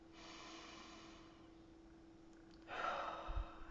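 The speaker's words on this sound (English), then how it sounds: "just take a breath" A person takes a slow, deep breath in through the nose, a soft airy inhale that builds and grows louder near the end, over a faint steady background hum.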